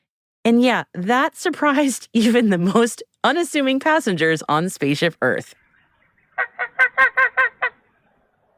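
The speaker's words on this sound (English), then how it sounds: "that was the sound of ducks, or maybe even a few geese" A person talks, then a short burst of nasal honks from ducks or geese follows in a quick series of about six calls.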